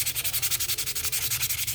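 Sandpaper rubs back and forth along the grain of painted wood, a brisk, even rasping stroke repeated about ten times a second, close and steady, with no voices.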